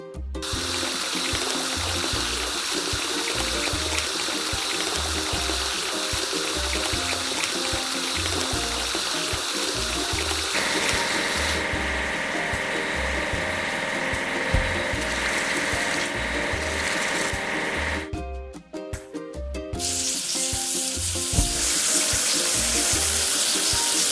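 Cartoon water spray washing a drop side truck in a kids' truck-building video game, a steady hissing rush of running water with mechanical ratcheting clicks, continuous throughout with a shift in tone partway and a brief dip near the end.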